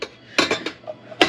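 Metal pots and frying pans clank and clatter in a few sharp, close bursts as cookware is shuffled around a kitchen while a smaller pan is hunted for.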